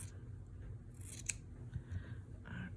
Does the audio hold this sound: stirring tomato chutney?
no